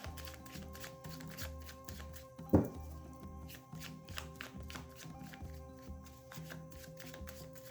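A deck of tarot cards is shuffled in a quiet room, giving repeated soft riffling rustles and taps in a steady rhythm, with one sharper knock partway through and no talking.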